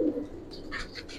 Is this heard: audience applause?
no